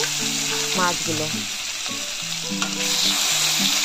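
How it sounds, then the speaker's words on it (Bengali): Rohu fish pieces frying in hot mustard oil in a kadai, a loud continuous close sizzle with soft stirring noises, while tonal voice-like sounds run faintly underneath. "মাছগুলোকে সুন্দর করে ভেজে নেব।"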